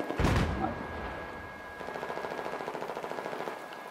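Gunfire in the Battlefield 4 video game on the Flood Zone map, with a loud single blast at the start followed by a sustained rapid burst of automatic fire, moderately close, and no talk.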